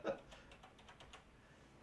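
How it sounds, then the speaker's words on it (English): Faint computer keyboard typing during a livestream auction, a quick run of soft key clicks over quiet background noise. "Heard those keys pecking away."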